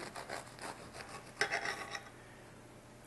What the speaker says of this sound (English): French bread, we cut it approximately 1/4 inch thick